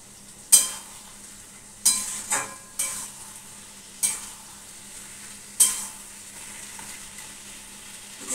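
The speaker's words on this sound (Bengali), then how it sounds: "এখানে ভালো করে মিশিয়ে দেবো। একটু জল দিলে কি মশলাটা ভালো মিশবে।" Spice masala being stirred in a pan for rohu fish curry, with a soft sizzle underneath. About six distinct scraping strokes of the spoon come at uneven intervals, close by, with no voices.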